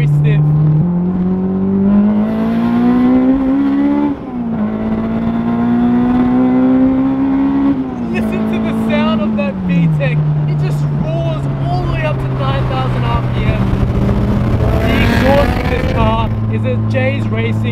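A Spoon Honda S2000 track car's engine drones loud and close, its pitch climbing and dropping through gear changes with VTEC induction sound and a raspy titanium exhaust growl, voices talking underneath.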